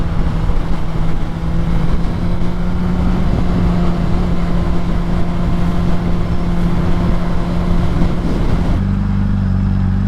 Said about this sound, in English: This is how traffic is in California.